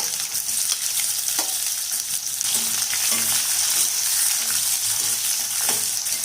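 Finely chopped large onions frying in a pan with urad dal for brinjal poriyal, a steady loud sizzle with occasional stirring clinks, no voices.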